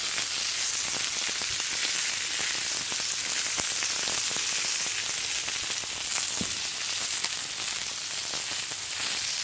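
Steak seasoned with adobo sizzles on an outdoor barbecue grill, a steady, dense crackle and hiss that holds evenly for the whole stretch with no talking.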